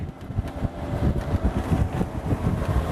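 A safari vehicle speeds along a riverbed with a loud, rumbling engine, the microphone buffeted by strong rushing wind and bumpy jolts throughout.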